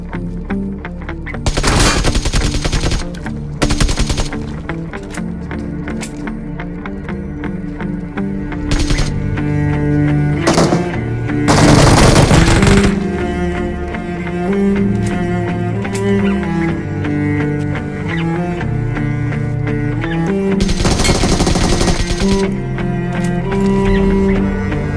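Gunfire in the mobile battle royale game PUBG Mobile: repeated sharp bursts of machine gun fire and scattered single shots, loud and close, over a backdrop of in-game ambient tones.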